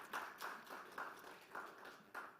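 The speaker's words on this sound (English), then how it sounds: "Let's give him again another round of applause" Light applause from a conference audience at a summit, a sparse round of claps pulsing in rhythmic bursts, faint and somewhat distant.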